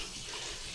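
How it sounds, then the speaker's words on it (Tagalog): A weakened tap in a home bathroom, used for hand laundry, runs with a thin, steady hiss of water, quiet and unbroken with no voices. "Kasi naghina na naman yung tubig."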